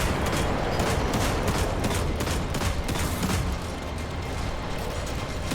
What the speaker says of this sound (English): I'm just going to shoot right at the edge of its body.